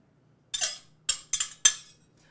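Metal whisk clinking against a bowl while combining melted butter and sugar, four short bright scraping strokes in quick bursts, close and clear with no talking.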